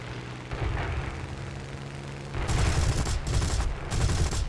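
Aircraft guns firing in War Thunder's ground strike mode, a loud, dense rattling burst of rapid gunfire that swells in two heavier bursts over a steady engine drone, no talk.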